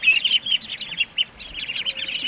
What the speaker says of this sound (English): how long will you keep the ducklings in there for?